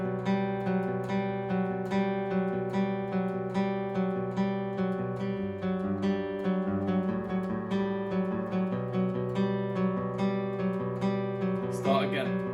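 Acoustic guitar playing a song at full tempo, steady strummed chords with clear sustained ringing notes and a regular rhythm, played alone without talk.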